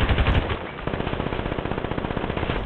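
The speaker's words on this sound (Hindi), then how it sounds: "ये अंदर से आ रही हैं गोलियां," Rapid machine-gun fire in the GTA 5 PC video game mission Crystal Maze, loud and close, with fast regular bursts of shots rattling continuously throughout.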